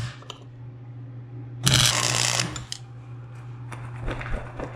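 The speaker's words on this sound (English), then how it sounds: "I'm gonna hold these together manually while I try to get this next weld off here." A cheap welder fuses steel pipe pieces held together by hand on a pipe jig, giving one loud crackling burst of roughly a second amid quieter clicks and handling noise.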